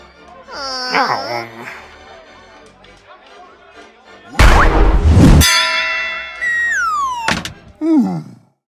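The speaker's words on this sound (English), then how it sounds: "Grok was the only one who could ring the bell." A bell rings in a children's reading game, a bright clanging strike with a ringing tail among cartoon voices, thuds and sliding sound effects.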